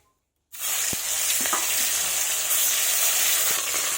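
Fish pieces dropped into hot oil in a kadai burst into a loud, steady sizzle after a brief silence, frying continuously and close up with a few faint clinks.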